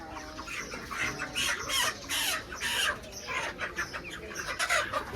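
Chickens at a market stall clucking and squawking close by in rapid, overlapping bursts throughout, with a faint rooster-like call among them.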